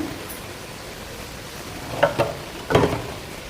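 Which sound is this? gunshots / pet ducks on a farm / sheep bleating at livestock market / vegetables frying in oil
vegetables frying in oil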